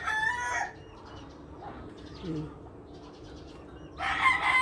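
Chickens on a rural farmyard cluck in short bursts near the start and end, with a quieter crowing call in between, amid faint background noise.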